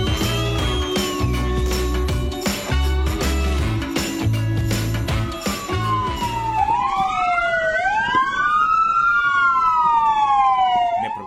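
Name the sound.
fire engine sirens wailing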